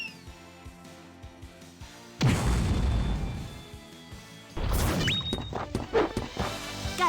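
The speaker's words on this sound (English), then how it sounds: "Here goes my impact bomb." An Impact Bomb attack from the RPG Grandia II hits with two heavy crashing blasts, each a loud burst of noise that decays into rumble, set against battle music and small clattering effects.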